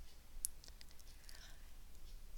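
A computer mouse clicks a few times, faint and close, while someone navigates job postings in PeopleAdmin software. The clicks fall against a low background hiss with no speech.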